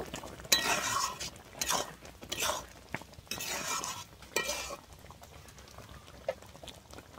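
Roasted, ground spice powder is stirred into spinach and moong dal, giving a run of scraping spoon strokes with soft clinks against the pot, busiest early on and thinning out toward the end.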